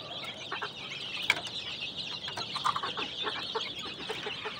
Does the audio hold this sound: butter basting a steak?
no